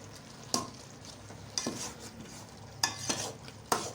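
Saag of bathua and sarson thickened with flour cooks over a medium-low flame while a spoon stirs and mashes it, giving occasional sharp scrapes and knocks over a soft, low simmering hiss.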